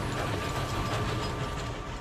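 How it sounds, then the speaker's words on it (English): A narrow gauge forestry steam train runs along the rails, carrying timber through Romania's mountain forests. It gives a steady, dense rumble with faint clattering that stays constant for the whole stretch, and no voices are heard. "They are narrow gauge machines, 4 times smaller than a normal steam train."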